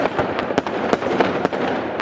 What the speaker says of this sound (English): And we can see the sound of fireworks coming.